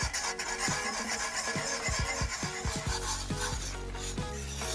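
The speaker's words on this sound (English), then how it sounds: "Okay, we keep stirring it." Spoon scraping and rubbing through thick grits in a pot, a steady run of rasping strokes with a faint sizzle behind them, close and without talk.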